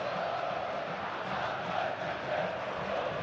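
Stadium crowd at a São Paulo FC Brazilian league match in 2011, urging on a young player with a steady, dense roar of massed voices that holds at an even level throughout.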